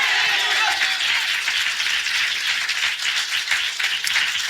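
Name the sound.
congregation clapping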